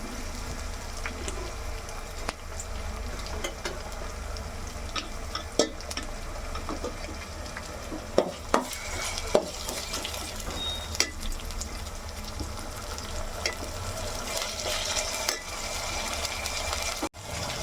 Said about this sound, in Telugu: ఈ టమాటోస్ కాస్త మెత్తగా అయ్యే వరకు మనం దీన్ని ఫ్రై చేసుకోవాలి.